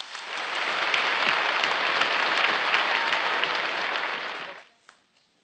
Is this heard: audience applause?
yes